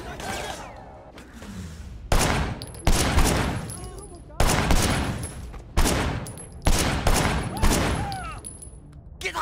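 Gunfire from the video game Sleeping Dogs comes in repeated loud bursts of shots, several close volleys about a second apart over roughly nine seconds, with brief pauses between them.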